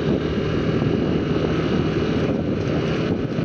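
Steady, loud rush of wind buffeting a microphone while riding a motorbike, a continuous low roar with no pauses or voices throughout.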